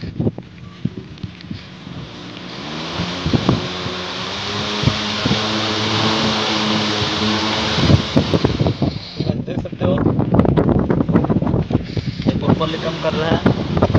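A homemade RC airboat's propeller blade spins up in a test, a loud, steady whirring roar with wind buffeting that grows rougher and choppier toward the end, while a voice talks over it.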